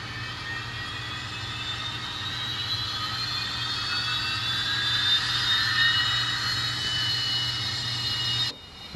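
Rapido N scale TurboTrain model's sound decoder running up, a steady turbine-like whine with rising high tones held over a constant low hum, cutting off abruptly near the end.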